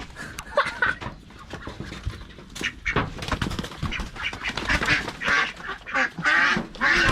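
Ducks quack in a busy, rhythmic chatter throughout, close and fairly loud, with some handling clatter mixed in at a place where ducks are sold for Roi Et–style duck larb.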